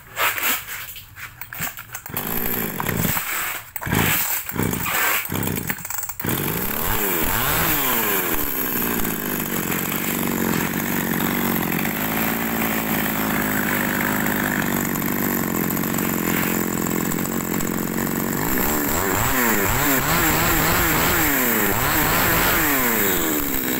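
Used Japanese-market chainsaw, a small 37 cc model, idles and revs continuously, its buzzing two-stroke engine loud and close, with sharp bursts of throttle early on, heard alone without talk.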